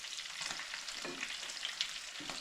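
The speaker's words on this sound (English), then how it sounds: "it's sizzling less." Bluegill and crappie fillets fry in hot oil, giving a soft, steady crackling sizzle with small pops, faint and close, with no talking.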